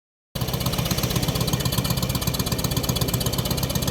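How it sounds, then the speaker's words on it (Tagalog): A boat's small engine idles steadily after a test start, loud and close with a fast even putter and no voices, at a seaside landing where a fisherman has returned from the open sea. "tinitesting niya yung kanyang makina guys"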